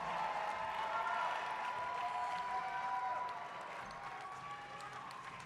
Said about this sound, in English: we'll give them a big round of applause as they head back to the stage